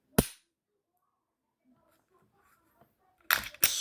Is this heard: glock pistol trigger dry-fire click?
yes